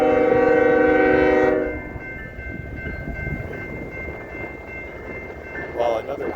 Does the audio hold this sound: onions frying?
no